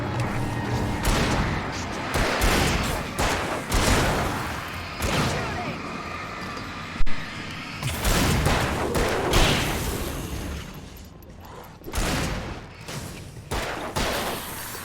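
Gunfire in the horror video game Alan Wake, a rapid run of loud, close shots and bursts with sharp impacts across the whole stretch, one especially hard crack midway, with game noise between volleys.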